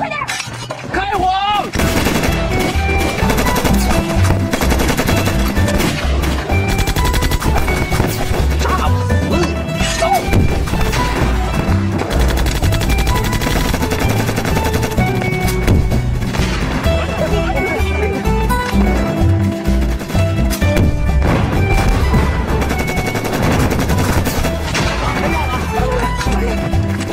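Gunfire in a kung fu action film set during the anti-Japanese war, with bursts of shots, crashes and impacts running continuously inside a dense, loud soundtrack mix.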